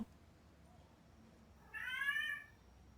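A single drawn-out cat meow in a video game, POPOPOSAN, clear and fairly close, rising out of a quiet background near the end.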